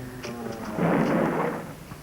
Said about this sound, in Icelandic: ég er svo hrædd við þrumuveður